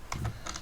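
A few quick, light keystrokes on a computer keyboard, close up and fairly quiet, in a brief burst of typing.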